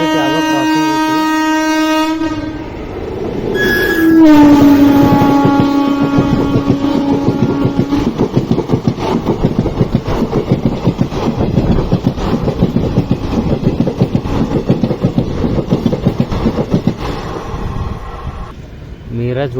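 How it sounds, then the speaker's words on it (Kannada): A Miraj–Hubli passenger train passes a level crossing: a loud, close horn blast, then a long, steady rolling clatter of wagons that fades near the end. "ಮೀರಾಜ್ ಹುಬ್ಳಿ ಪ್ಯಾಸೆಂಜರ್ ರೀ, ಅದು ಕ್ರಾಸ್ ಆಗಿದ್ದ."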